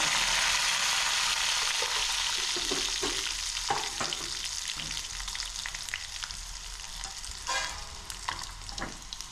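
A hot tempering of oil and mustard seeds in a pan gives a loud, steady sizzle close by, with scattered sharp pops and spoon clicks against the pan that thin out toward the end, no talking.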